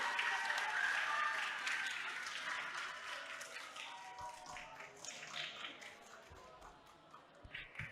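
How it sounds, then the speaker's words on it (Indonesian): Applause from a seminar audience on literacy, a faint, steady spread of clapping that slowly thins out over several seconds, with a few scattered claps near the end. "beri tepuk tangan yang meriah untuk teman-teman kita semua"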